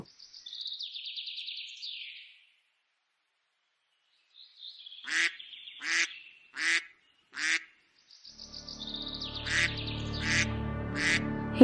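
Cartoon ducks quack in a series of bright, nasal calls: a drawn-out squawk first, then four short evenly spaced quacks after a pause, then more quacking over a low background hum.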